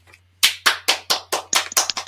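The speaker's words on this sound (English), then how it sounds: "Clap." A series of about eight sharp, evenly spaced hand claps, loud and close, cheering on Samantha Panlilio, Miss Grand Philippines 2021, during an online show, with no voices over them.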